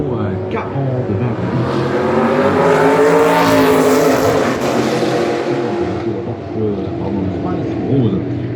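A Spice race car at the Le Mans Classic sweeps past loudly, its engine note swelling as it nears and fading away, with a French commentator talking throughout.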